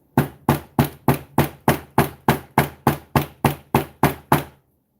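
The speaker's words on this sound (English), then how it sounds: "I'm going to be hitting with the nylon head of my hammer" A nylon-headed hammer strikes a steel block fourteen times in a steady, evenly spaced rhythm, each blow a loud, close, sharp knock that rings briefly before the next, ending in silence.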